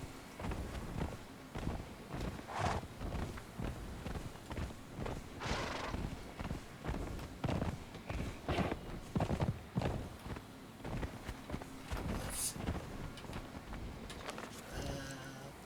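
Rhythmic clip-clop of horse hooves in the video game Conan Exiles, moving at a steady pace, with soft background ambience and occasional brighter accents; no talking.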